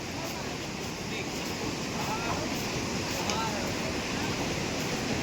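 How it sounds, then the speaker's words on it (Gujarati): Clear river water flowing beneath a bridge on a pilgrimage route makes a steady, full rushing roar, broad and unbroken, with wind buffeting the microphone. "નીચે સરસ મજાની એવી એકદમ ક્લીન પાણી વહી રહ્યું છે."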